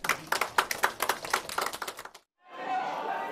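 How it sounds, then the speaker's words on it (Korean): An audience at a political campaign rally clapping in a quick, rhythmic burst of distinct claps lasting about two seconds, then a brief silence before a steady crowd murmur. "박수 한번 쳐주십시오"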